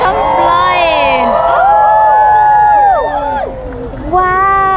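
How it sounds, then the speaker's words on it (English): A crowd at an Independence Day celebration in Jakarta, Indonesia, cheers and shouts loudly with rising and falling whoops close by, dense voices overlapping throughout and dipping briefly before surging again. "the crowd are loving it"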